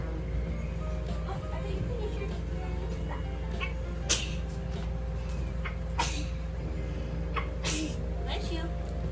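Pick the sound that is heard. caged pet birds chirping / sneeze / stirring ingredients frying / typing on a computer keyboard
sneeze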